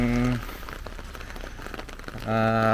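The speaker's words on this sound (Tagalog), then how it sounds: "First time ko guys makaranas ng ganito katagal na ulan buong maghapon." Heavy rain in Abu Dhabi patters steadily in a dense hiss for a couple of seconds, framed by tonal voiced sounds at the start and end.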